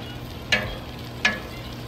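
Breakfast sandwich ingredients sizzling on a Blackstone griddle, a steady low frying hiss with two sharp scraping clicks of a spatula, close and alone.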